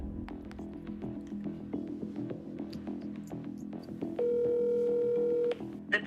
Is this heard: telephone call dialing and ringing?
yes